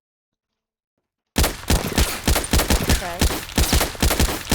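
A pistol fires in the Roblox game Berkeley County, starting after silence with a rapid, even string of loud, close shots that continues to the end.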